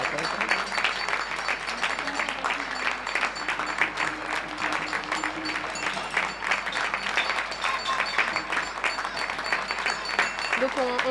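Dense, continuous applause from many people clapping in support of healthcare workers, steady crackling claps throughout with voices mixed in underneath.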